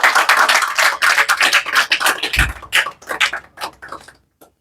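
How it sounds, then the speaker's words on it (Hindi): Crowd applause at a student award ceremony on an agricultural coaching campus in Azamgarh, dense overlapping claps filling the room, then thinning into scattered claps and fading near the end. "स्वागत करिए तालियों के गड़गड़ाहट के साथ"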